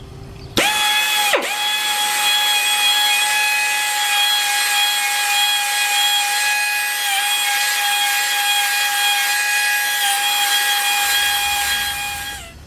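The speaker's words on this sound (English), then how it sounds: "This is a ball hone. It just puts a surface finish on the inside of the guides." Ball hone spinning inside the valve guides of an automotive cylinder head, a steady high whining tone with strong harmonics that starts abruptly, runs continuously for about ten seconds, then cuts off.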